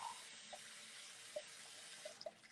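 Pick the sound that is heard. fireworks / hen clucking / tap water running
tap water running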